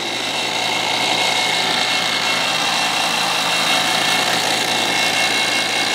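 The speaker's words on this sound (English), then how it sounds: "This one does seem a little bit louder." An HVAC vacuum pump runs close by with a loud, steady motor hum and a bright, hissing whine, continuously without pause.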